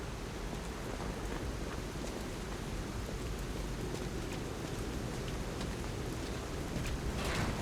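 Steady rain falls in the video game Lies of P, a dense even hiss with scattered drop ticks and a faint low rumble, constant throughout and with no voices.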